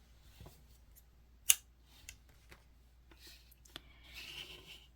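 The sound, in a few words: scissors cutting crochet yarn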